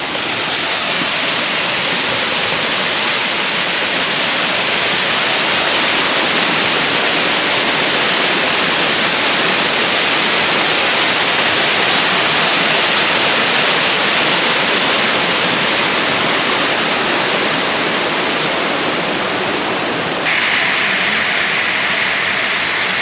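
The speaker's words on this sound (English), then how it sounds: "Let's try to get a little bit closer to the top of the waterfall." The Grand Cascade de Tendon waterfall in France's Vosges Mountains roars up close as a loud, dense, unbroken rush of falling water, with no voices.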